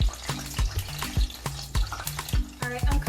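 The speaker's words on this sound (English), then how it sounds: "I'm gonna put some oil now to my pan with my plantains to cook" Plantains cooking in oil in a pan for shrimp mofongo, a steady hiss broken by repeated sharp knocks and clatters of a utensil against the pan, close and fairly loud.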